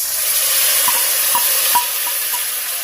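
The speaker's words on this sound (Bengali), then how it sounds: "আলুটা লাল করে ভাজা হয়ে গেছে, এবার আমি মশলাটা দিয়ে দেবো।" Potatoes frying in mustard oil with spices just added: a steady, bright sizzle fills the pan, with a few faint clinks and stirring taps scattered through it.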